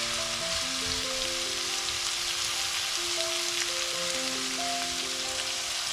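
Onion, garlic and chopped spinach frying in a pan with a continuous dense sizzle, steady and close, with soft stirring scrapes and no voices.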